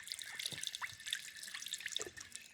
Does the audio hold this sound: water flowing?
yes